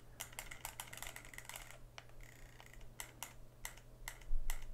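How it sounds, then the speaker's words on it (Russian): A Soviet electronic winter fishing rod, the Okun, runs with a quick string of sharp, dry mechanical clicks and ticks over a low steady hum, close and quiet, the clicks coming in irregular clusters. "Вот эта удочка работает, видите?"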